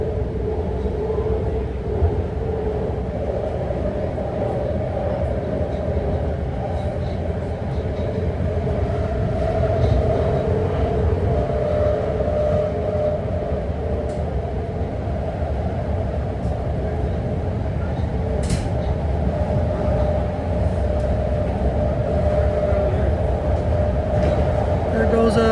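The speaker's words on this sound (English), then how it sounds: "There goes a Green Line Berryessa bound BART train passing us." A six-car Green Line BART train passing alongside near Oakland Coliseum, heard from inside a moving train as a steady, loud rail rumble and rolling roar that holds through the whole stretch, with a brief brighter rush partway through.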